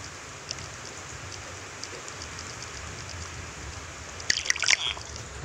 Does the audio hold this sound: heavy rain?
yes